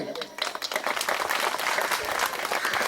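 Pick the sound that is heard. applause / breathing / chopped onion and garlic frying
applause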